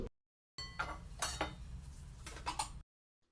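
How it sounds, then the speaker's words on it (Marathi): A lid set onto a cooking pot, giving a single close metallic clatter and rattle of about two seconds that settles quickly, with near silence before and after. "आता ठेवते झाकण ठेवून"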